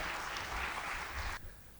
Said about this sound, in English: I request members to please welcome sir with a big round of applause